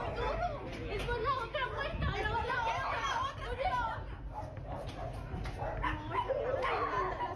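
A dog barks and yips amid excited, overlapping human chatter, the barks rising above a busy, chaotic background.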